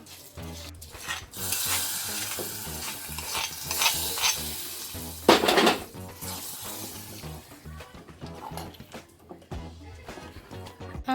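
Chili powder sizzles in hot oil as a tempering and is stirred into mango pulissery curry, giving a steady crackling fry with scraping spoon strokes against the pan and a brief sharper hiss midway.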